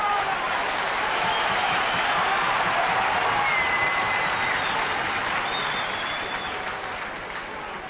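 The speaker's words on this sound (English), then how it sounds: "the crowd just building up a little bit of excitement" A stadium crowd at a 1989 rugby test match between Swansea and the All Blacks cheers and applauds steadily, a dense, continuous roar of clapping that holds for several seconds and then eases slightly toward the end.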